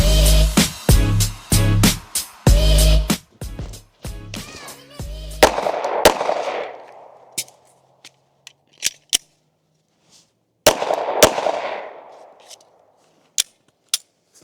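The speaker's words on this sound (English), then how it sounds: "So we just ran a 2-2 from about maybe 5 yards. Shooting a little bit to the left." A concealed-carry handgun is fired at about five yards on a self-defense range, in sharp paired reports. Several pairs of close, loud cracks come in quick succession, then sparser single shots ring out with echoing tails.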